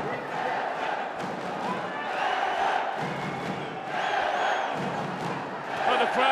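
An arena crowd at an amateur boxing semi-final cheers and roars continuously, the noise swelling in waves, while a commentator talks over it.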